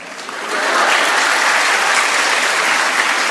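An audience applauds a speaker at a lecture: dense, loud, steady clapping from a large crowd that swells quickly and holds evenly without voices.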